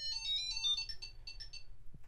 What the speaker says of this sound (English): It'll play a nice tune.